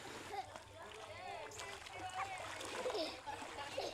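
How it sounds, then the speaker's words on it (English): Water splashes and splatters as clothes are washed by hand in a river in a rural Guatemalan village, with steady sloshing and irregular bursts throughout and children's voices in the background. "we have no other choice but to wash our clothes here"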